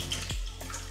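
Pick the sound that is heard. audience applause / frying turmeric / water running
water running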